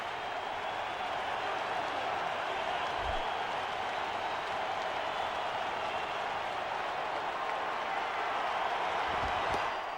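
Baseball stadium crowd in the video game MLB 11: The Show, a dense, steady roar of cheering that fills the whole stretch at an even level with no breaks.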